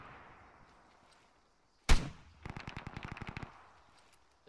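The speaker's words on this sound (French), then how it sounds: "Star, faut que tu tires le BTR. Tirez-lui" Gunfire aimed at a BTR armored vehicle in the military shooter Arma 3: one sharp, loud blast followed by a rapid burst of about a dozen close automatic shots, then quiet.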